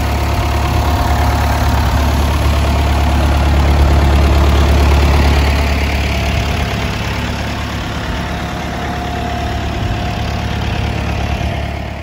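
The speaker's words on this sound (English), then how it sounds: "Can you see the old modern tractor?" An old tractor engine idles steadily with a low, continuous rumble and slight knocking texture, loud and close throughout, with no talk over it.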